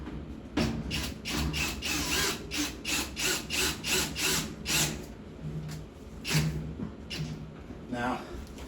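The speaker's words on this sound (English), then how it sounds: "Got my trusty drill." A handheld power drill works at screws on the back panel of an Amana washing machine, firing off a rapid series of short whirring bursts, loud and close, with a few pauses between runs.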